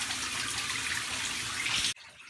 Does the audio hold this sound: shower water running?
yes